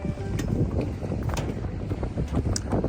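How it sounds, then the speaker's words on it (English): Strong, gusty wind roars across the microphone at a marina beside a sailboat with main and mizzen sails, a loud, continuous buffeting with surges and no voices. "he says it's a very strong wind"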